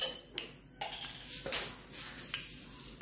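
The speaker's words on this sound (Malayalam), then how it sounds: "നമുക്ക് കടുക് ഇട്ട് കൊടുക്കാം" Mustard seeds hitting hot oil in a pan, giving scattered quick pops and crackles over a soft sizzle, close and fairly quiet.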